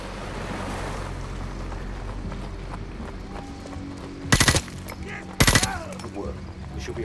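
Two short, loud bursts of automatic gunfire ring out over steady wind-like background noise in Call of Duty Modern Warfare Remastered on PC.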